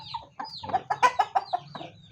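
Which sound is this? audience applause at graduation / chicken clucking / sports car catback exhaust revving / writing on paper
chicken clucking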